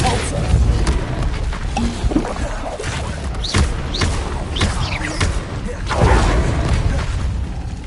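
Repulso spell combat in Hogwarts Legacy brings a busy run of booming magical blasts, whooshes and thuds layered over one another, loud and close, with a voice calling out partway through.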